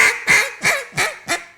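A handheld duck call blown by a person imitating duck feed chatter: five quick, rhythmic quacking bursts with no other sound around them.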